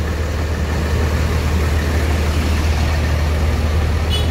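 A Hino RM 280 bus engine runs at a steady idle, with a constant low diesel rumble and hum, close and loud, no talk.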